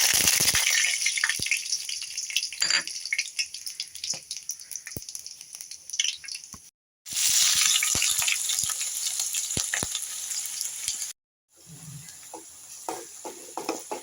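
Fennel seeds, cinnamon and star anise drop into hot oil and crackle loudly, a dense, close spitting sizzle with sharp pops and ticks that runs on, cut by two brief silences.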